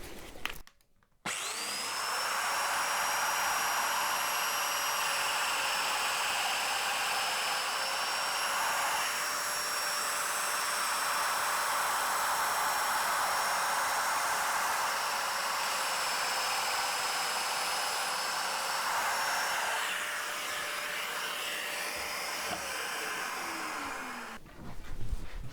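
A power saw runs for over twenty seconds ripping through an oak shelf piece, a loud sustained whine and rasp with steady pitch that drops as the blade spins down at the end.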